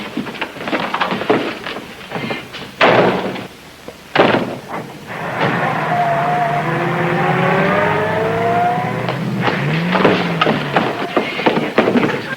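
A getaway car pulls away in a 1941 crime drama. Its engine rumbles and revs up with a rising whine, heard close and steady, mixed with other scene noise.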